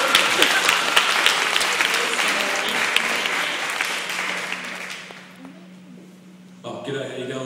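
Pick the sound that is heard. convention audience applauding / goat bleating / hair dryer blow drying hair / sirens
convention audience applauding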